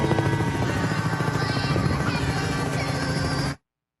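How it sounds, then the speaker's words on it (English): A helicopter flies low and hovers, its loud continuous rotor chop and engine roar filling the whole clip before cutting off abruptly. "Okay, we got a helicopter flying really low,"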